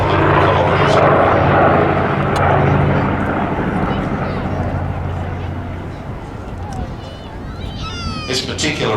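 A Douglas DC-6 four-engine propeller airliner flies past at an air festival with a loud, rough, throbbing propeller roar that swells early and fades slowly, while a voice talks over it.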